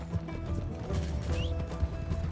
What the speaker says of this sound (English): I am on my horse